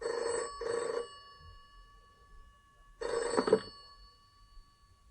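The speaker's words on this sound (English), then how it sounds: "Lasky received a phone call." Telephone bell ringing in two bursts, a double ring, a pause, then another ring, clear and fairly close with no one talking.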